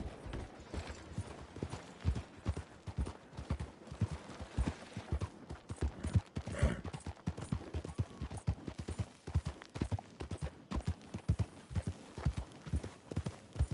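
Horse hooves clip-clop at a steady walking rhythm in Red Dead Redemption 2, a continuous run of fairly close, distinct hoofbeats heard alone with no talking over them.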